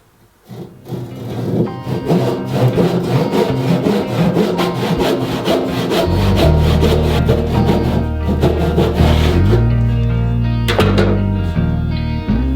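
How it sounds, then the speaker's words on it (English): A handsaw cuts down through a thick piece of timber for a workbench. Close, loud strokes come in a steady back-and-forth rhythm, getting heavier and deeper partway through, with no talking. "what I'm going to try doing is cutting down through the bottom and then hopefully chipping the piece off with a chisel"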